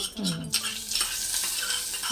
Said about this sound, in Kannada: ಇವಾಗ ಇದ್ರ ಮೇಲಿಂದ ಒಗ್ಗರಣೆ ಹಾಕಬೇಕು